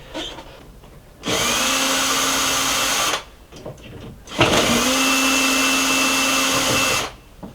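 A power drill driving out the temporary screws that hold a window clamping ring, in two loud sustained bursts of whirring with a short pause between them, the motor pitch steady through each run.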